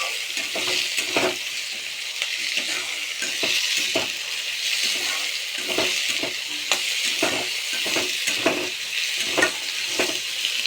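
Brinjal and tomatoes fry in a pan with a steady sizzle, punctuated by regular scraping taps of a spatula stirring them, close and fairly loud.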